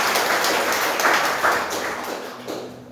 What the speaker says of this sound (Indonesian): Boleh kasih tepuk tangan buat orang kita.